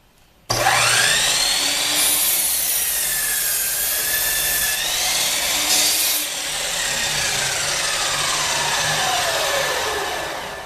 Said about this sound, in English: Let's just cut through this piece of wood to give you an idea.